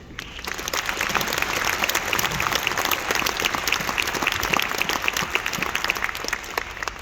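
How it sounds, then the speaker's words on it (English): Sustained crowd applause at the Hyundai Metaplant America groundbreaking ceremony, many hands clapping steadily and evenly for several seconds with no speech over it. "I want to give a round of applause"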